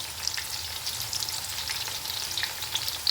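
Onions frying in a pan until light golden brown, heard as a continuous, even sizzle with fine crackling spits, fairly close and moderately quiet, with no voices.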